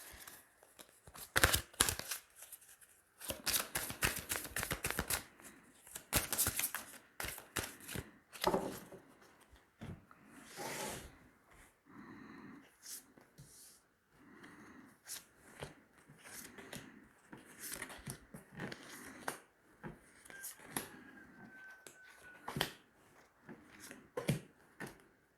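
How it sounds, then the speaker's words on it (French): Tarot cards are shuffled and drawn by hand, quiet close riffles, slaps and rustling card snaps in irregular bursts with pauses between. "On va tirer 9 cartes."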